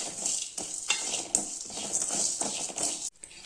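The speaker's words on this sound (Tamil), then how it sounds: "உளுந்து, மிளகு, அப்புறம் வெந்தயம் இதை 3 ஒன்றா போட்டு வறுத்துக்கலாங்க" Urad dal, black pepper and fenugreek seeds stirred and dry roasted together in a pan, giving a steady near patter of scraping and rattling seeds with a faint sizzle, no talking.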